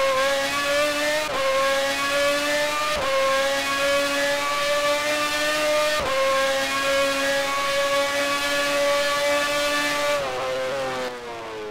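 A motorbike engine in the video game GP Bikes revs hard toward its redline, its pitch climbing to a scream, with sharp gear-change drops roughly every two to three seconds and a final downshift, loud and close.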